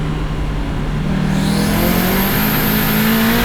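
A 500HP turbocharged Mazda Miata makes a full-throttle pull, its engine loud and close, droning and rising steadily in pitch as it accelerates, with no talk over it.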